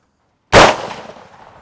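A single sharp, loud blast from a gunshot striking an exploding target outdoors, bursting abruptly after a moment of silence and trailing off in a rumbling decay.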